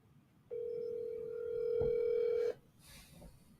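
A telephone call rings out as one steady two-second electronic ringback tone, near and clear, then stops abruptly, followed by faint background noise.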